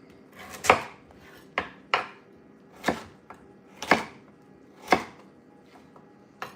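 A kitchen knife chopping vegetables for borshch on a board, about eight sharp, close chops at an uneven, unhurried pace with quiet gaps between strokes.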